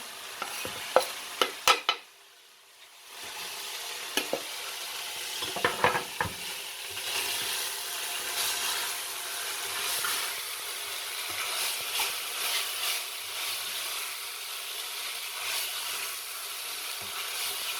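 Onion frying in a pan for taco filling: sharp stirring clatters at first, a brief pause, then a steady loud sizzle crackling on with occasional utensil scrapes.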